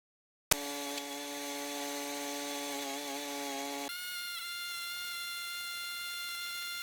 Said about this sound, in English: We decided to rent a mini digger auger.